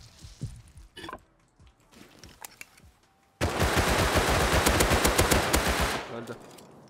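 Gunfire in the video game Rust, scattered single shots and clicks at first, then a loud, sustained automatic burst of rapid rounds lasting a few seconds before fading, with a voice speaking quietly.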